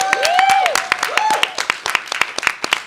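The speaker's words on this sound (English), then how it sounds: "a huge round of applause for Kelly Jean Fitzsimmons" An audience at a live storytelling event applauds with distinct, close claps, loud at first and then thinning out, along with rising whoops and cheers.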